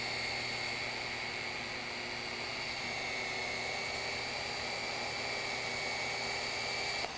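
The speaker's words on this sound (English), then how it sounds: "And I'm going to turn the brush on. Just gently move it around." Electric polishing pad conditioning and cleaning brush motor runs steadily, a constant whirring drone with a tonal hum that holds level throughout, close and without speech.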